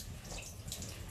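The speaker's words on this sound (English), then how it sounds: "We're running the basin sink down here right now to see if we see the water ripple there." Water runs steadily from a basement basin sink into its drain, a continuous close rushing wash with a slight splashing texture and no voices.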